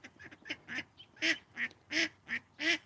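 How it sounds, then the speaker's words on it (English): Several ducks quack in a loose series of about eight calls, close and fairly loud, with no talking over them. "Oh, I think she might be bonding with White Duck."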